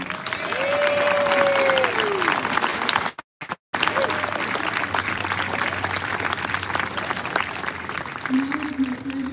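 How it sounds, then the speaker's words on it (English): A graduation audience at the Army and Navy Academy applauds, a sustained dense wash of clapping from a large crowd, with a brief cutout partway through and a voice and faint tones audible underneath. "please join me in a round of applause in recognition of these dedicated professionals"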